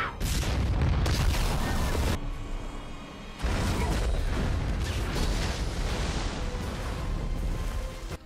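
A huge, rumbling bomb explosion in the film The Marine 2 roars and sustains, briefly dips, then a second massive blast surges and lingers as a loud, dense roar.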